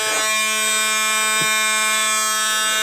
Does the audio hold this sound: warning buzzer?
yes